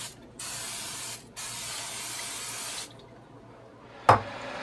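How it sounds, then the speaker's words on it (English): Crisco cooking spray hissing from a can into a cooking pan in a kitchen, two steady bursts of about a second each and a longer one, followed by a sharp clank near the end. "I spray the pan"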